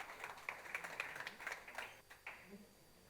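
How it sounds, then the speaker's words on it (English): A small, sparse smattering of claps from a conference audience as a guest is welcomed to the stage, faint and thinning out after a couple of seconds. "Please give him a warm round of applause."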